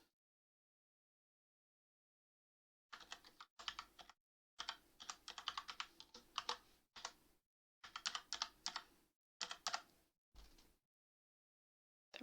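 Someone types an email address on a computer keyboard in quiet bursts of quick, close key clicks separated by short pauses, after a silent opening.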